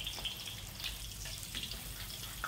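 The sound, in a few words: tofu frying in oil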